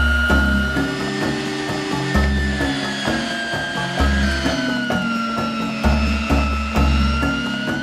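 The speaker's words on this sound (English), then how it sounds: "After we ground everything through the grinder, we're going to take it and put it in a big bowl." A food grinder running on high, grinding nutrition bar ingredients: a loud continuous motor whine with a pitch that wavers as it loads, plus rhythmic low thumps, with no speech.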